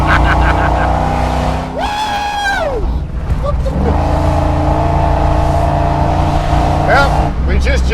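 A supercharged, fuel-injected 700 horsepower truck roars loudly close by, its engine revving and rising in pitch through repeated accelerations. Someone talks over the engine noise.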